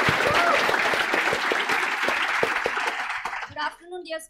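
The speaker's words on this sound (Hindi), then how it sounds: "एक बार जोरदार ताली यार" An audience in an accounts lecture class applauds loudly for a teacher, a dense burst of many hands clapping for about three seconds before it breaks off and a voice starts talking.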